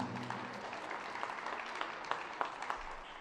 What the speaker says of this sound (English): Round of applause for the Weymouth team.